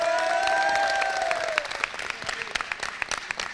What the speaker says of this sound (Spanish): Yo quiero pedirle primero un aplauso para mis compañeros caster